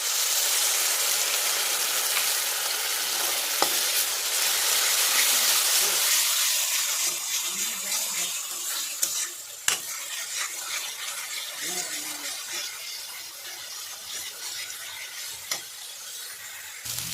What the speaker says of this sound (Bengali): এবারে এতে কাঁচা লঙ্কা, আদা আর রসুনের পেস্টটা দিয়ে দিলাম।